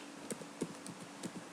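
Soft keystrokes on a computer keyboard while entering a spreadsheet formula, a few scattered light taps spaced irregularly, faint and close, with no voice over them.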